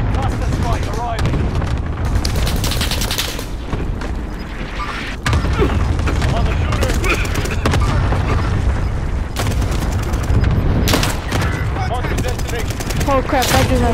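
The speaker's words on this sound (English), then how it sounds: "Allied cluster strike arriving." Allied cluster strike explosions in the Call of Duty: Modern Warfare video game, a dense barrage of booming blasts and rattling gunfire pounding continuously at high volume, with brief bursts of clustered impacts throughout.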